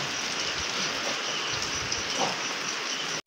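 Heavy rain falling steadily outdoors near a river, a dense, continuous broadband hiss that stays loud and even throughout, with no talk over it.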